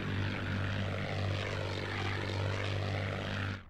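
A Spitfire or Bf 109 propeller engine from a Battle of Britain flight video game drones steadily and loudly for a few seconds, then cuts off abruptly at the end.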